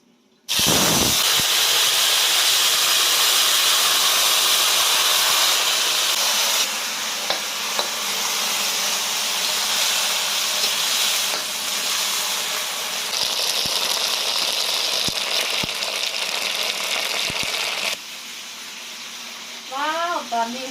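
June beetles deep-frying in hot oil give a loud, steady sizzle and hiss that runs nearly unbroken, easing slightly near the end while a voice briefly speaks over it.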